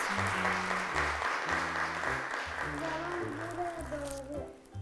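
An audience on a children's television show applauds as a boy is called to the stage, a steady wash of clapping beneath music with a rhythmic beat and a brief voice near the end.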